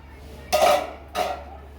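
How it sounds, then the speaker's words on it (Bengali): A metal lid comes off a pot of rui fish curry with two quick clanking scrapes, close and fairly loud, separated by a short pause. "ঢাকাটা খুলে দেখবো,"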